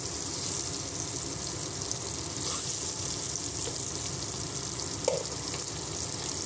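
Egg biryani ingredients frying and sizzling in oil in a pan until golden, a steady close crackle with faint stirring scrapes and no talk.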